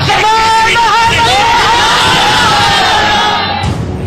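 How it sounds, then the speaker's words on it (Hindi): Loud crowd outside Nankana Sahib gurdwara shouting religious slogans, many voices bellowing and whooping together in a dense, continuous roar with rising and falling chanted calls. "पहले तो वहां भड़काऊ भाषण और धार्मिक नारेबाजी हुई।"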